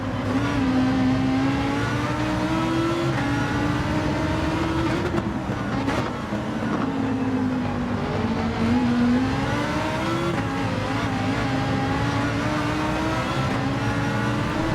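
Race car engine in Gran Turismo 7 online racing, a loud continuous whine that climbs and dips through gear changes, with other cars faintly audible behind it.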